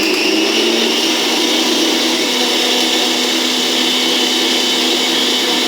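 An electric mixer runs at full speed whipping pistachio mousse for a vanilla and pistachio entremet, a steady high whine with a constant hum that holds unchanged, loud and close, without any talking.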